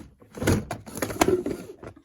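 A drawer in a computer workshop slides open with a few quick rattling thumps and a scrape over about two seconds, close and fairly loud, with no talk.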